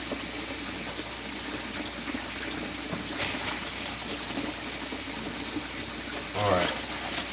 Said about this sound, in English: Let me rinse a little more